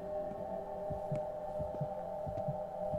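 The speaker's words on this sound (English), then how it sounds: "Why the heartbeat?" A heartbeat in the horror game Silent Hill: Downpour pulses in steady paired thumps, roughly one beat every second and a half, over a constant low electronic hum, with no talk.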